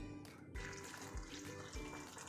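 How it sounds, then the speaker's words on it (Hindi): Hot water is poured over a bowl of dried soya chunks, making a continuous close splashing and trickling pour with a few low bumps, no talking. "मैं गर्म पानी डाल देती हूँ"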